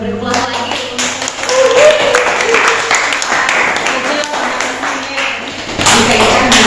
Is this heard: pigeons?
no